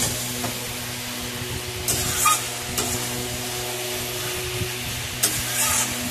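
Meat cooking down in ghee in a pan, a steady close sizzle with stirring scrapes and occasional louder clatters, with no talk.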